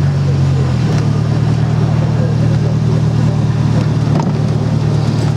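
A Thoroughbred Stallion motorcycle's light four-cylinder engine with cherry bomb mufflers idles in a steady, loud, deep drone, with a slight shift in tone about a second in.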